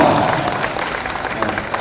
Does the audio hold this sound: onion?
no